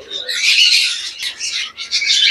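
JP budgies, breeding pairs in a bird-sale aviary, chattering with continuous shrill squawks and chirps, loud and close, several birds overlapping without pause.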